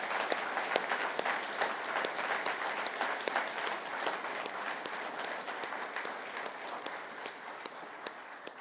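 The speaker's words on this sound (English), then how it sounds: "How about one more round of applause?" An audience at a firefighter graduation ceremony breaks into sustained applause, dense clapping from a large crowd holding steady for several seconds.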